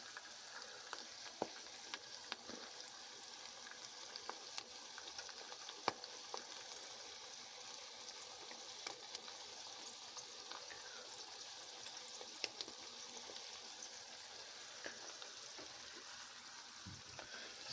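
Tomato paste frying in a pot of deer chili with beans, a soft steady sizzle and crackle with scattered small pops and occasional stirring clicks, close and fairly quiet.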